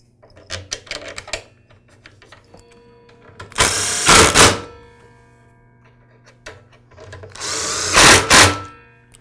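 Power screwdriver driving the motor housing screws on a DeWALT DW718 miter saw, two loud bursts of whirring spin about four seconds apart, with small clicks and handling noises between them.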